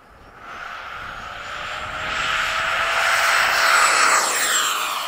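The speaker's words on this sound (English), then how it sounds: "Oh, that sound! Oh my God! How are you talking about mine with that thing? Woo! Sounds like a real jet" A Skysword model jet plane on a demo flight makes a whooshing jet-engine roar that swells louder as it passes close, then eases slightly as it moves away.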